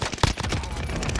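Automatic gunfire in Call of Duty: Modern Warfare, a dense rapid burst of shots running the whole second, loud and close.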